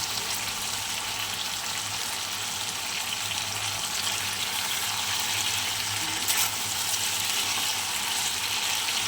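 Continuous, even hissing of vegetables frying in a pan, moderately quiet and unbroken, with no voices.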